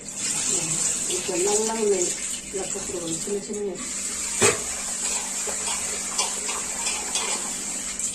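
Water runs steadily from a tap to wash bugs off grain, making a constant bright hiss. A voice talks over the first half, and one sharp clatter sounds midway.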